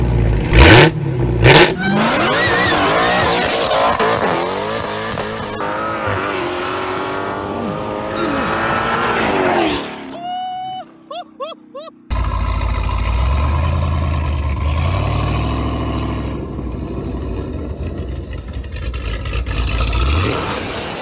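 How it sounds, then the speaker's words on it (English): A Honda Accord with a swapped Hellcat engine revs hard and roars through its exhaust in several bursts, with sharp throttle blips, a brief quiet gap, then sustained loud acceleration. "if you want to hear some more of this crazy Hellcat swap Honda Accord exhaust"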